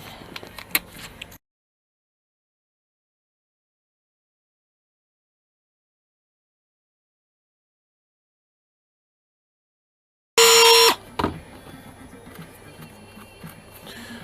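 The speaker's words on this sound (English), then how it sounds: "Now I want my Dremel out." A Dremel rotary tool works on a GSXR 1000 streetfighter build. After a long silence it bursts in with a loud, sharp whir, then settles into a lower, steady whine over workshop background noise.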